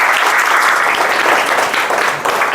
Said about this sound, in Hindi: वेरी गुड, तालियां बजा लो अपने लिए